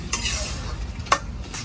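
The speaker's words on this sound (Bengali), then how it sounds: "শাপলাটা একটু ভাজা ভাজা করে ফেলছি" Water lily stems fry with spices in a pan, giving a constant close sizzle broken by a few quick scraping strokes of a spoon stirring them.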